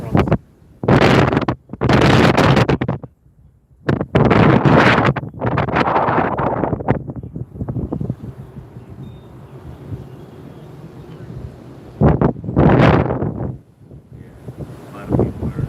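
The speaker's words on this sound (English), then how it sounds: "The wind's going the other way." Strong gusts of wind buffet the microphone outdoors near a wildfire in Boulder, loud rushing bursts coming and going over several seconds, with people talking between the gusts.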